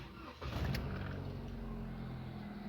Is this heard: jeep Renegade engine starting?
yes